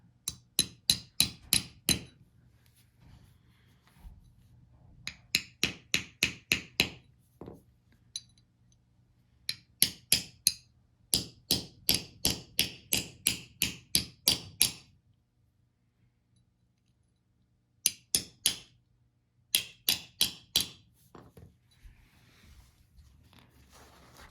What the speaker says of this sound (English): just tap it in with a hammer.